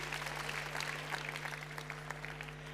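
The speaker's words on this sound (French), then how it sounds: "je pense que vous pouvez applaudir Mathieu." Students at a youth session of ChangeNOW 2024 applaud a guest, a faint, distant patter of clapping over a steady electrical hum.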